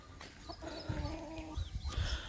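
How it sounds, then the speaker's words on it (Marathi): A large rooster clucks nearby in a few short, throaty calls, with soft rustling and other faint bird sounds around it, in a Konkan village. "बघा कसला मोठा कोंबडा"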